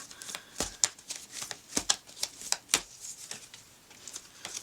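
A deck of tarot cards shuffled by hand in a quiet room, with a series of crisp riffling bursts and soft slaps coming close and fairly loud in an uneven rhythm, alone without talk.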